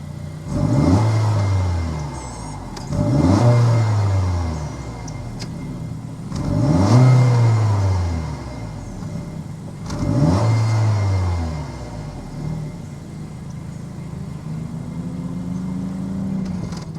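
A 2023 Honda CR-V with a 1.5-liter turbocharged inline four-cylinder is revved four times in a row, each rise and fall of the exhaust note clear and close, followed by a steadier idle with no talk.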